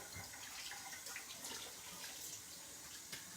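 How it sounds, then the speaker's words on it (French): Hands rinsed under a running tap, a soft, steady stream of water splashing into a sink, faint and continuous, with no voices. "Donc, je vais juste rincer mes mains."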